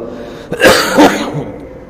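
A single harsh cough bursts out close by, followed by a softer second hack and a brief trailing breath, with no talking around it.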